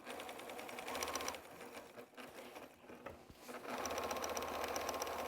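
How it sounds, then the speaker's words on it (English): A sewing machine back-stitches pinned quilt strips, its motor humming in steady loud bursts with a short pause in the middle while the fabric is shifted. "I'm going to start with a back stitch to secure the edge, and be sure to remove the pins as you go"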